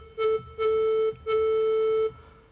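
Recorder patch on a Studiologic Sledge synthesizer with reverb: three breathy, flute-like sustained notes, the first short and the next two longer, each fading into a soft reverb tail, heard alone.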